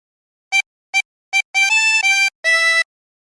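A tremolo harmonica plays a short hymn phrase from There's a River of Life: three quick separate notes, then longer held chords with a wavering shimmer, close and clear with nothing else heard.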